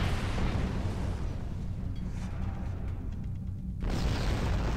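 Quantum torpedoes fired from a starship in Star Trek Online, a sustained, roaring low rumble of launches and blasts that fades midway, then surges back loud with a faint high whine.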